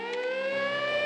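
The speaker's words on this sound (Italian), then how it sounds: "Sirena." A siren sound effect from a speech therapy app, a steady wailing tone with strong harmonics, heard alone and fairly loud for about a second.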